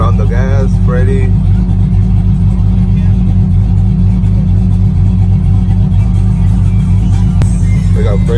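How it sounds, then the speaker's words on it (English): A modified truck with an LSX engine revving at a truck meet in Atlanta: a loud, deep engine rumble that holds steady throughout, close by, with people talking and shouting over it. "We got on the gas, Freddy."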